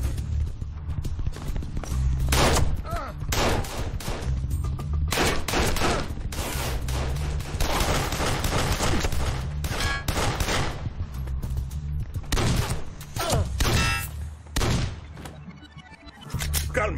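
Gunfire in a police shootout in an anti-mafia crime drama: repeated sharp, loud cracks and bursts fire in irregular rhythm over a low rumble, some in rapid clusters, with a brief lull near the end.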